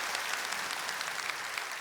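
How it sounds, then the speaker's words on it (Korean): A Korean church congregation gives a brief round of thanksgiving applause during a Sunday worship service, a dense, even patter of many hands that is moderately loud throughout. "감사의 박수하겠습니다."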